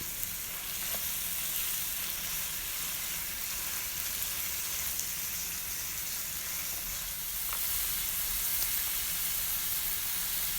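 Half a pound of minced meat fries with softened onions in a pan, giving a steady, even sizzle throughout, moderately quiet and close, with no voices.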